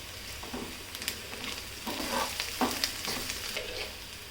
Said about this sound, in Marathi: लसूण कांदा मिरची चांगली परतून घ्यायची.